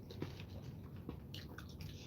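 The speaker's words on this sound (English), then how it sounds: "My nicotine gum chewing habit because that's when it started." Someone chews nicotine gum close to the mic, producing soft, wet, irregular chomps and squishes in a quiet room, with faint background noise and no talking.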